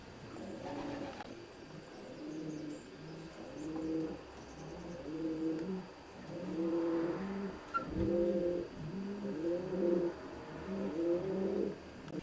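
Racing pigeons coo steadily inside an enclosed old-bird loft section with 24 nest boxes, birds kept secluded for long-distance racing; repeated rhythmic low coos overlap from several birds close by, with no talking.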